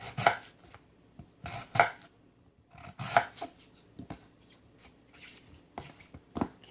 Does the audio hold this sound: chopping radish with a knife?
yes